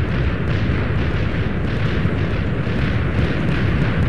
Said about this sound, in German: Massive TNT explosion.